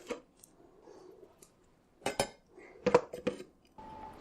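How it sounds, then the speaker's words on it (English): Cut potatoes being dropped into a crock pot, a few quiet knocks and clinks of pieces and utensil against the pot, separated by short pauses. "So now we're just going to cut up some potatoes, and then just going to put them straight into the crock pot."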